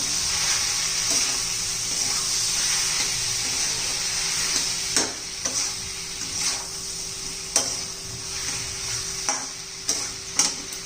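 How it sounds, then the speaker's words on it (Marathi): Ridge gourd curry with red chilli powder and salt being mixed in a pan, a constant soft sizzle under repeated scraping strokes of a spoon against the metal. "ते सर्व आपण व्यवस्थित मिक्स करून घेऊया"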